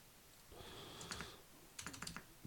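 Quiet, close computer keyboard typing of commands on a Spectrum SE setup: a few scattered keystrokes, then a quick burst of clicks near the end, with no talking.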